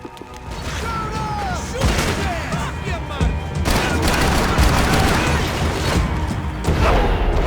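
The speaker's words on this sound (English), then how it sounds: "Gunfire over Hoboken." Bursts of heavy gunfire and booming impacts erupt repeatedly amid a dense rumbling din, loud and chaotic, from a firefight over Hoboken in the video game Max Payne 3.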